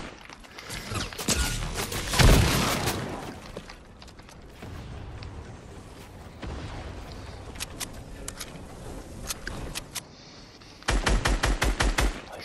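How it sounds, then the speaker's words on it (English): Fortnite gunfire at Breakwater Bay: rapid shots and mechanical clatter run through most of the stretch, with a heavy volley near the start and another dense burst close to the end. "Oh, I'm getting shot in the back."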